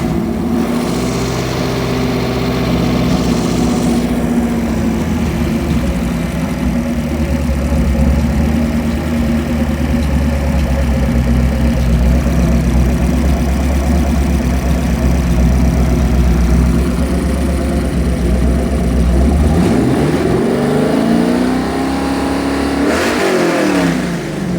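A 383 Chevy stroker marine engine with forged steel internals and Holley Sniper EFI idles steadily and loud up close, then revs up briefly near the end before settling.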